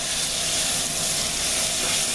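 Scooped-out, chopped eggplant cooking down in a pan with softened vegetables for Calabrian-style stuffed eggplant, giving a steady, even sizzle and hiss that holds at one level throughout, with no talk.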